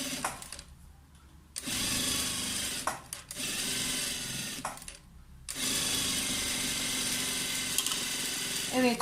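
A sewing machine stitches fabric seams on a homemade athletic undershirt, running in sustained loud bursts separated by short pauses.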